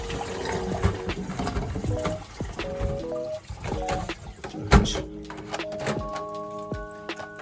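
Water in a Grohe concealed wall-mounted toilet cistern settles and trickles after a fill, with a continuous rushing gurgle, a sharp knock partway through and a fading hiss with resonant tones toward the end.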